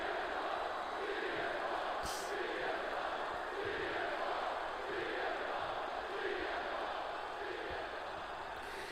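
Arena crowd roaring during a WCW Monday Nitro wrestling match in the WWE 2K24 video game, a dense steady wash of cheering and noise held throughout with a brief sharper burst near the start.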